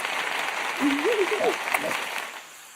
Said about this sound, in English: Give me that hand clap for Ruben